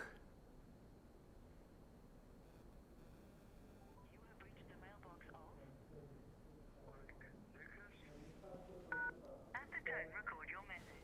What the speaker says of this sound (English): I'm phoning Warwick.